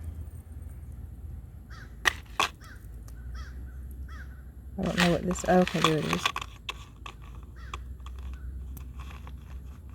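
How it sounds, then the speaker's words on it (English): Crows caw outdoors: a close run of loud, harsh caws in the middle, with fainter calls before and after, while a person talks nearby. "There's another crow saying hello to us"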